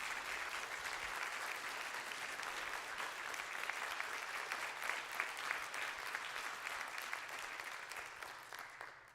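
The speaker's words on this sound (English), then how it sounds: "give our panelists a very generous round of applause" A seated evening audience at a panel discussion on housing and violence claps steadily and densely for the panelists, a sustained even wash of applause throughout.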